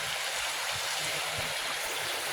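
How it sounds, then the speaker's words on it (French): A small river in the Alsace countryside flows with a steady hiss and soft gurgle, continuous and fairly close, with faint low thumps underneath and no speech. "Donc voilà la petite rivière juste là."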